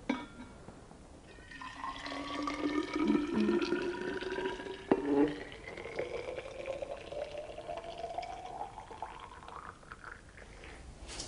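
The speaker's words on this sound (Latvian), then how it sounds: "Pārliecam ūdeni termosā, lai saglabātu vajadzīgo temperatūru ilgstoši." Water poured into a thermos, a continuous gurgling fill whose pitch rises steadily as the flask fills, close and fairly quiet, with no talking.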